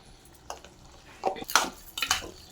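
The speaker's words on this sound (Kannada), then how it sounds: "ಮಿಕ್ಸ್ ಮಾಡ್ಕೊಂಡು ಚೆನ್ನಾಗಿ ತಿರುಗಿಸಿದ್ದೀನಿ" A spoon stirs a mixture seasoned with salt and turmeric in a pot, giving a few scraping, clinking strokes against the metal at irregular intervals, close up with no voices.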